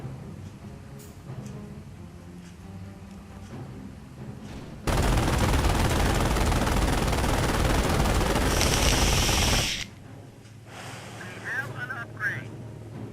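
Tank cannon fire and heavy battle noise from the Company of Heroes strategy game, a sustained loud burst of roughly five seconds with game voice lines and talk before and after.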